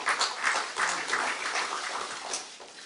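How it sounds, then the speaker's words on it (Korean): Audience applause at a Kwanhun press forum hosting Seoul mayor Park Won-soon, a dense, steady wash of clapping from a seated crowd lasting about three seconds with no voices over it. "박수 한번 주세요."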